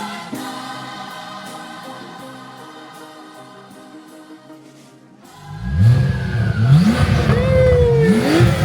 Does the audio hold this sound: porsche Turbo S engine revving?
yes